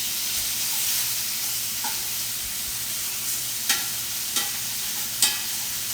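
Meat fries in a covered skillet with a loud, even sizzle and hiss. Three sharp clicks or taps stand out near the end, with no talking.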